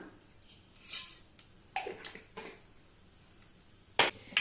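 Sharp crackling pops scattered irregularly, a few louder bursts among quieter spits, like mustard seeds bursting in hot oil close by.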